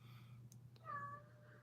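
A pet cat gives a single drawn-out meow close by in a quiet room, rising then trailing off over about a second, after a couple of faint soft clicks.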